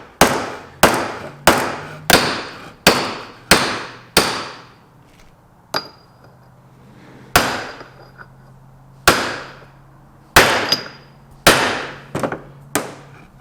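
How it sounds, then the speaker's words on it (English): Repeated sharp metallic blows of a brass hammer driving an outer bearing into an MGB rear hub ring out, about a dozen strikes in uneven bursts with short pauses, close and loud, with no talking. "just driving the outer bearing, using a brass hammer"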